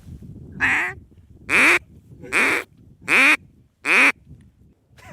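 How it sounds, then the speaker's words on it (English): Five loud, raspy quacks from a hand-blown duck call come in a steady rhythm about a second apart, close to the listener and clear of any speech. "I've got a duck call you can try that is sanitary"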